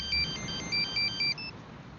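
A phone ringtone plays a short repeated beeping pattern, three or four quick bursts close and clear, then stops abruptly with no one speaking.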